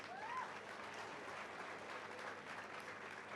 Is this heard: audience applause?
yes